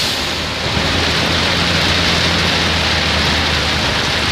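Heavy rain pours down outdoors as a loud, dense, steady hiss, with a faint low hum running underneath and no talking.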